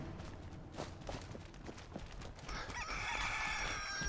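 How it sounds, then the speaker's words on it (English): A rooster crows in the Sim Settlements 2 video game, a drawn-out call rising at the end over quiet ambient game sound with faint footstep-like taps before it. "the roosters are out in force"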